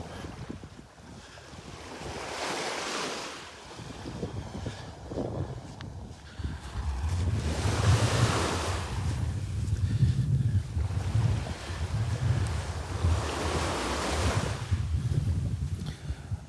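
Waves wash onto a shell-strewn Gulf beach at Delnor-Wiggins on a morning walk, swelling and receding in broad surges under constant wind rumble against the microphone, with no voices.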